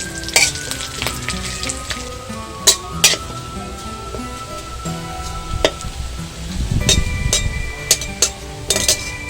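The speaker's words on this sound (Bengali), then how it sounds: "জিরে এবং কারি পাতা ভাজা হয়ে গেছে" Cumin seeds and torn curry leaves fry in hot oil with a loud, continuous sizzle, broken by occasional clinks and scrapes of stirring in the pan. No one speaks.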